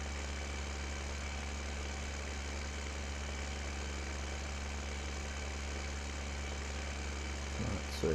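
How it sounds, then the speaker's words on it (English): A tractor engine idles close by, a steady low constant rumbling drone with no talk, and a brief clunk near the end. "we'll use the tractor to drive everywhere."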